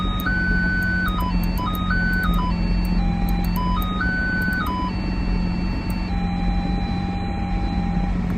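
Lamborghini Aventador SVJ parking sensor beeps stepping up and down in pitch to form a simple melody, steady and clear over a constant low hum.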